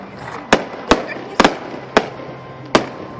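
After-game fireworks show at an A's vs. Blue Jays baseball game, with five sharp distant bangs at irregular intervals echoing over crowd murmur.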